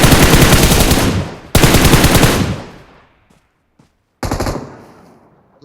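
M249 machine gun firing in the PUBG video game, Rondo map: two long, loud sustained bursts back to back, a short pause, then a briefer burst, with no talk over the shots.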